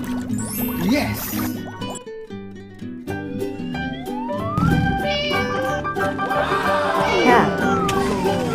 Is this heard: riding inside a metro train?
no